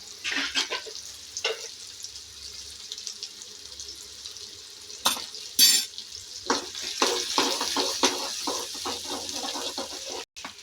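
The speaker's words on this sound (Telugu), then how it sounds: "దీనిలోకి తరిగిన ఆనియన్ వేసుకొని కొద్దిగా ఫ్రై కానివ్వాలి." Chopped onion dropped into a pan with oil and asafoetida, starting to fry for a Sankranti mixed vegetable curry; a hissing sizzle with stirring scrapes and brief clatters, close and moderately loud, no talk.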